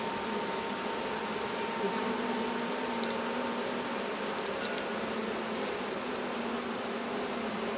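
A dense, continuous buzzing of many honey bees from an opened hive, steady and close, filling the whole clip with no voices.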